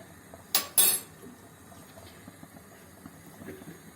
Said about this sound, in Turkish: Tuzumu atacağım, karıştıracağım.